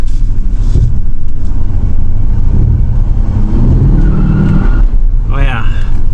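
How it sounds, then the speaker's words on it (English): A Ford F150 truck with a newly installed transmission revs and spins its tires, giving a loud engine roar and rising tire squeal close by, while a voice talks over it. "good enough to spin the tires"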